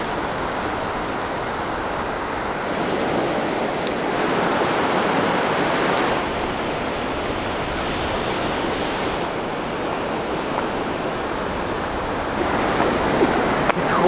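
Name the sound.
ocean waves breaking on an African beach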